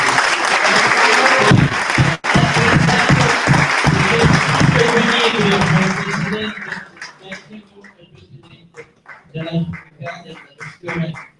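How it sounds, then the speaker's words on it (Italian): An audience applauds President Anatoli at a round-table event celebrating a first championship title: loud, dense clapping fills the first six seconds, then fades as a voice takes over. "Vorrei fare un applauso al presidente Anatoli. Applausi."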